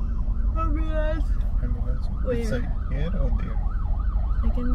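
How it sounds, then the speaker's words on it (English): An ambulance siren wails in repeating rising and falling sweeps on a Quezon City road, steady and fairly near over traffic rumble, with people talking. "Ambulance."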